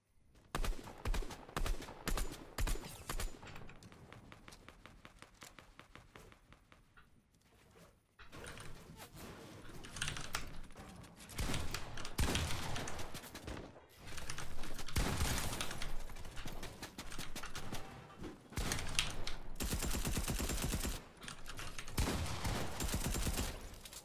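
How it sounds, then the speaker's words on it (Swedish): Rapid bursts of video game gunfire crackle in loud volleys, separated by short quieter stretches. "jag missade alla skott på han"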